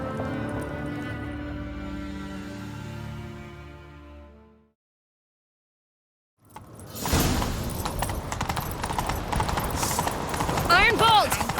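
Rhythmic hoofbeats of a galloping horse in The Witcher 3: Wild Hunt pound loudly over busy game sounds and music after a brief silence, with voices talking earlier.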